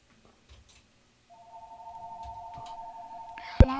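Telephone line on a radio call-in show: near silence, then a steady electronic tone sets in and holds, ending in a sharp click, faint and without speech.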